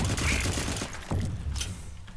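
Bursts of gunfire from the video game Firefall, a dense fusillade of rapid shots rolling through the first half and flaring again briefly, loud against a busy game soundscape.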